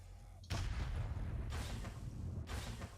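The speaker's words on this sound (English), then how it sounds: "You shoot at me, I shoot at you." Gunfire in the video game Legend of Grimrock 2 sounds as three heavy booming shots, evenly spaced about a second apart, each with a rumbling tail, loud and near.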